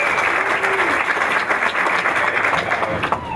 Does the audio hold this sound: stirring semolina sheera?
no